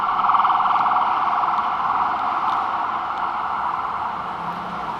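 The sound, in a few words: city street traffic noise in Wrocław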